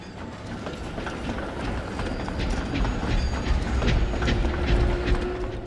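A diesel rail engine labours pushing trucks, sounding in poor condition, with rhythmic clanking and squealing metal as wagons grind along, growing louder toward the end.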